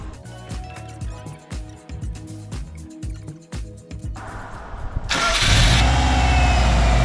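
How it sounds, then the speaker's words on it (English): A Subaru Impreza engine, freshly rebuilt, is cranked over with rhythmic starter chugs for several seconds before it catches and roars into a loud, steady idle close by. "start the car and see if it works."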